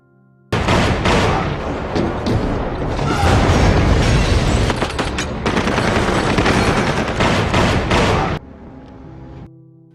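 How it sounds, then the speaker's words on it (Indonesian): Sustained gunfight from the 2018 action film Skyscraper, with dense rapid automatic gunfire, booms and mechanical clatter layered loudly for about eight seconds before cutting off abruptly to near silence. "Singkat cerita, terjadilah adu tembak."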